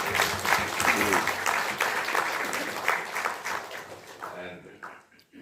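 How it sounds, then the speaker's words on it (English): Audience applauding at a science and technology report launch, a sustained wash of clapping that carries on for several seconds and then fades out near the end. "I thought you would clap for him"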